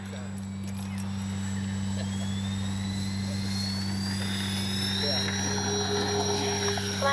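An FGFRC Bronco RC plane taking off with flaps down, heard as a steady electric motor whine rising slightly in pitch, moderately close over a constant low hum, with no speech.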